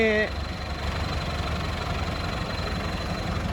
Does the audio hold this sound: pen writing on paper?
no